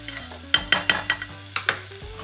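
Sliced green onion and cheongyang chili frying in melted margarine, a faint sizzle under a quick run of about eight sharp, close clinks and scrapes of a utensil stirring against the pan, with no talking.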